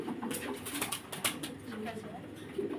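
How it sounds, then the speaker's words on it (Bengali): Pigeons coo softly amid a busy coop, with wing flutters and a person talking over the birds throughout. "তো ভাবি চলেন তাহলে কবুতরগুলো দেখাই"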